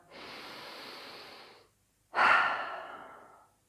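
Two deep yoga breaths, close and clear: a long steady inhale through the nose, a brief pause, then a stronger audible exhale through the mouth that fades out.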